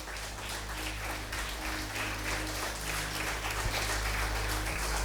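Church congregation applauding during a sermon, a faint, diffuse and steady clapping wash heard from a distance throughout, ending in a sudden louder bump.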